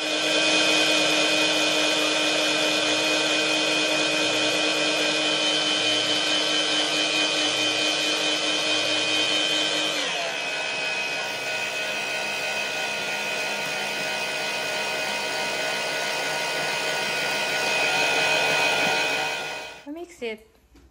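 An electric hand mixer whirs steadily through Halloween cookie dough of butter and egg, a loud continuous motor drone that shifts in pitch midway, then cuts off near the end.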